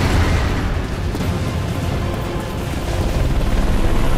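A helicopter in the Bulletstorm video game makes a steady, loud, dense rumble with a deep low-frequency drone that holds throughout, with no voices over it.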